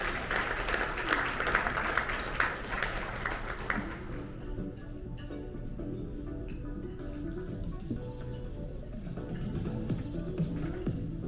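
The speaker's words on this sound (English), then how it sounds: "So a round of applause." Applause breaks out at an awards luncheon. The clapping is brief and moderate at first, then fades into quieter room noise and faint murmuring.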